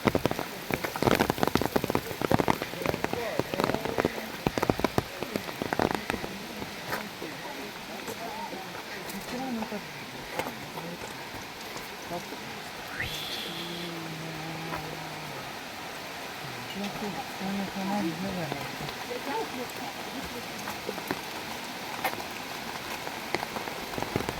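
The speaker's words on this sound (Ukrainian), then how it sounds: "Приїхати на сіновір і попасти під зливу." A heavy summer downpour in the Carpathian mountains near Synevyr pours down as a steady, dense hiss of rain hitting surfaces, loud and close. A few brief sounds stand out midway.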